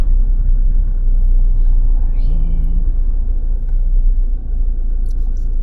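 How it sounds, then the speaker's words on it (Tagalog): Road traffic rumbles loudly and continuously nearby, a low steady drone of passing vehicles with a brief higher tone partway through. "Traffic na."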